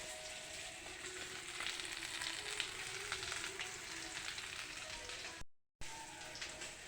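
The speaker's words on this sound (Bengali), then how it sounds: "আর কড়াইতে মাছ ভাজা হচ্ছে।" Fish frying in a wok gives a continuous crackling sizzle, soft and steady like light rain, with a brief dropout near the end and no talking.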